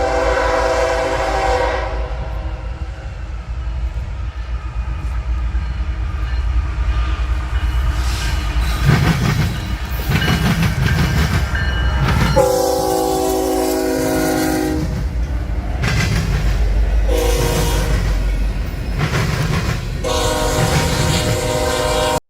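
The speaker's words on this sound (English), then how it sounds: "The next train was CSX B118, empty Eddystone oil going back to BNSF with a trio of BNSF units." CSX B118 empty oil freight train led by three BNSF locomotives rolls past, a steady loud rumble of wheels and engines with repeated blasts of a multi-tone horn sounding over it.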